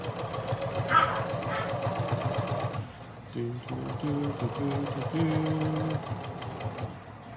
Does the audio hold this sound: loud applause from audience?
no